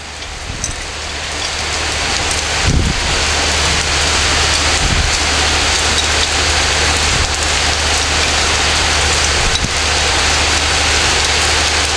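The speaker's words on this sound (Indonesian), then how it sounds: "Mohon maaf, ini hujan." Steady, heavy rain falls and drums on surfaces outdoors, a dense hiss that stays constant throughout, with a couple of brief dull knocks early on.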